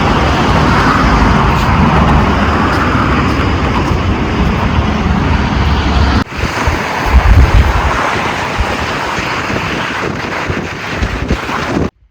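Sea waves wash onto the shore at sunset as a steady, loud roar of surf mixed with heavy wind buffeting the microphone, continuous for about twelve seconds with no talk.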